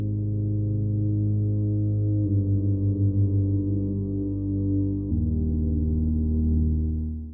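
A warm, low synthesizer pad holds steady chords that shift twice, with a gentle wobbling pulse in the middle section.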